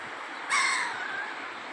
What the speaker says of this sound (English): And we got here one lone crow.